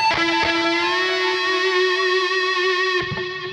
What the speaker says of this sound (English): we're going to do what's called a full step bend